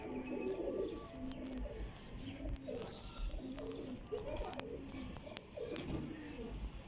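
Pigeons coo in repeated low, rolling phrases from Frizpori, Taddy and Mahro breeder pairs, a steady close chorus with some chirps and background noise.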